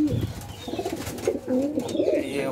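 A pigeon with plucked flight feathers coos in low, close, repeated calls that roll on steadily over faint background noise.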